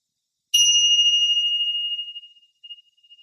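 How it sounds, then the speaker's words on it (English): A single small bell, one of several yoga chimes, struck once after a moment of silence, a clear ringing tone that decays slowly over about two seconds with a faint pulsing echo at the end. "So I've got some bells here"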